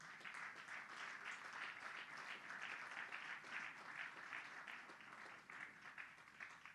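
Church congregation applauding during a Spanish-language sermon, a steady wash of many hands clapping, moderately distant and fairly quiet, sustained without break for several seconds.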